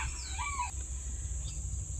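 Roosters crow faintly in the background, one brief rising-and-falling call early on, over a steady hum with no talking.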